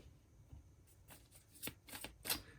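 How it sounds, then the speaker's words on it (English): A deck of Mermaid Tarot cards being shuffled by hand, a quiet run of soft riffling bursts that grow denser and louder toward the end, with no talking. "Some initial shuffling to continue this weekly read for Taurus"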